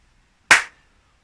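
A single sharp hand clap to the count during a tap dance class, close and loud, alone against silence.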